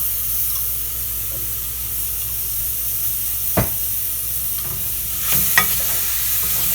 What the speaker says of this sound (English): you cook it for 10 minutes or until the apples are tender